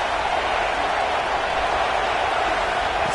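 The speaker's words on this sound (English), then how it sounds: "This crowd trying to make life miserable for this offense." A football stadium crowd roars loudly and continuously as the opposing offense has the ball, a dense wall of cheering and noise with no break.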